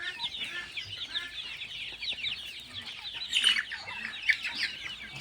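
Sonali chickens cluck continuously as they graze on grass alongside Chinese ducks on a small farm, with steady overlapping calls and a few louder chirps standing out near the end.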